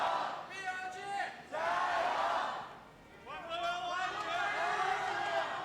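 A packed esports venue crowd at a League of Legends match cheers and roars in swelling waves with whoops and chanting, loud and reverberant.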